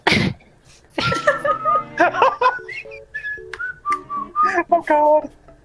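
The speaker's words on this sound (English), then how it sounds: "I'm just gonna whistle the song of my people" A person whistles a melodic tune up close in a run of clear, wavering notes, after a brief burst of noise at the start.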